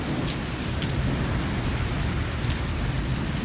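Heavy rain pours down during a dark storm in a village, a dense, continuous hiss of drops on surfaces with low rumbling underneath, loud and unbroken with no talk.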